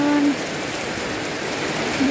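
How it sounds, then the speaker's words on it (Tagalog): Heavy rain pours in a dense, continuous hiss, with a brief voice at the start and another at the end. "Sobrang lakas ng ulan."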